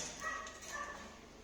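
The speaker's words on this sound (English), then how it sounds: "I can hear them barking." Dogs bark faintly in the distance, a few muffled yips heard through a steady background hiss with no one speaking.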